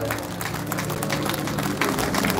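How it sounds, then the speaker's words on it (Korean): A crowd at a Korean political rally applauds a pastor being introduced, a broad continuous patter of many hands at moderate level with some crowd murmur mixed in. "우리 큰 박수로 한번 우리 서 목사님 격려 한번 합시다"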